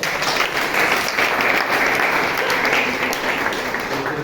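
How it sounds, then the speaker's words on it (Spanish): A group applauding after a relaxation exercise during an anxiety psychoeducation session, brisk continuous clapping from many people, close and fairly loud, with no talk over it. "un aplauso para ustedes"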